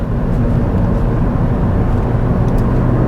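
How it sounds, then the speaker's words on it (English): A cheap used diesel Ford Fiesta pulls strongly on a frosty road, its engine a loud, steady low drone from inside the cabin with continuous road and tyre rumble. "There's no denying it's a diesel, but it does pull well."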